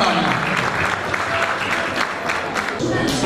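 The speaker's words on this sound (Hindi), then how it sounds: "जोरदार ताली।" An audience at a school academy event breaks into loud, steady applause, with dense clapping that carries on without a break from start to finish.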